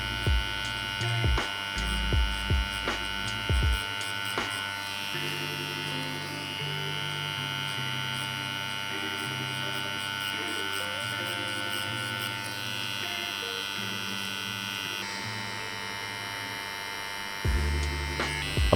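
A rotary-style tattoo machine fitted with a 23 Magnum soft edge needle runs in a steady, close electric buzz and hum that holds for most of the stretch, with a few brief breaks and restarts and soft background music.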